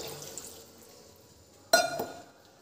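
Hot water poured into a pan of simmering doi chicken curry: a quiet background hum, then a sudden clink and a short splashing gush of liquid that fades within a second.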